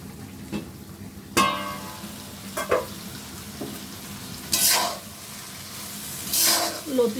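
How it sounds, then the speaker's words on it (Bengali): Taro stolons cooking in a covered pot without oil, stirred with a few scattered scrapes and knocks and short bursts of hissing steam, close and intermittent. "লতিটা একটু নেড়ে চেড়ে দিব।"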